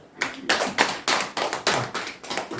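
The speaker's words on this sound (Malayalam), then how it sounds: "ഒന്ന് കൈയടിച്ച എല്ലാവരും." A group of children and adults at a village library's children's arts gathering clap in unison, about nine sharp close claps in a steady rhythm.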